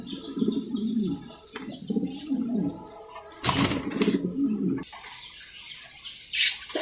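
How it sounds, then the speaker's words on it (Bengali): Several Mundian pigeons coo in low, rolling bursts at a breeding farm, close and moderately loud, with a stretch of hiss and a few thin chirps between the calls. "এইখানে আরও এক জোড়া মুন্ডিয়ান কবুতর"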